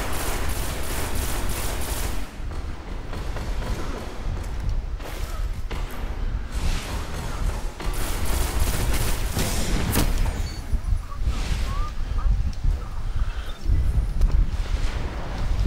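Destiny Iron Banner match with grenades thrown down a hallway, dense rapid gunfire and repeated heavy blasts, loud and nearly continuous across the whole stretch, no talking.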